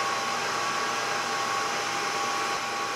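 A lathe spins under power in a machine shop with the tool rotated into position, giving a steady, continuous motor whine and broadband hum that holds even and unbroken throughout, with no talk.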